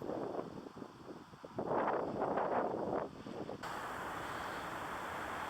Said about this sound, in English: a cold wind blew this young tree around